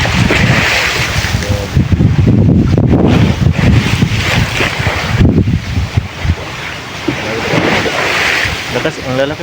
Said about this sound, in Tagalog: Ang lalakas po ng hampas ng alon ngayon.